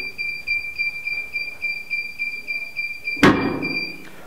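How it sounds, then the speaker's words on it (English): A steady high electronic beep pulses for several seconds from a Secabo TC automatic clam heat press timer, then a clunk as the press releases and opens. The beeping briefly resumes afterward. "the press will open automatically after the beep."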